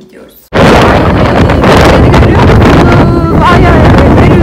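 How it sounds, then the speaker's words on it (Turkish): Strong outdoor wind hits the microphone abruptly and then keeps up a loud, steady roaring buffet, with a voice speaking faintly under it. "Ay ay ay, ne rüzgarlı."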